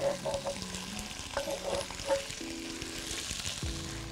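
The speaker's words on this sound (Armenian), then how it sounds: "Ինչպես հիշում եք, ասացի, որ սունկ պետք է տապակենք։" Marinated mushrooms fry in a pan with a soft, steady sizzle, fairly quiet and close, with a few clinks and stirring noises scattered over it.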